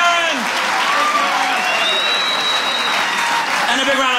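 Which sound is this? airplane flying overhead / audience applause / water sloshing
audience applause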